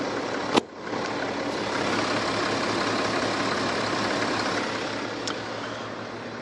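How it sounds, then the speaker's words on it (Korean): A BMW X6 coupe-style SUV's inline diesel engine idles smoothly and quietly, a low, even hum that holds steady throughout with a couple of faint clicks and no voices. "아주 정숙한 엔진 소음 기대하실 수가 있는 차량입니다"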